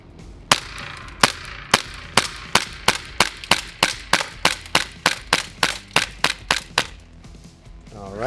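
Elite Force Smith & Wesson M&P9 full-size airsoft pistol fires roughly seventeen sharp, close, loud shots in a steady, fairly quick rhythm, with no talking.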